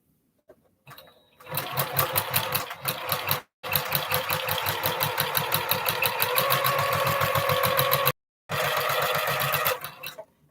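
A walking-foot sewing machine stitching fabric seams for quilt blocks, running in fast, steady bursts of close mechanical whirring, with two short stops partway through and no voices over it.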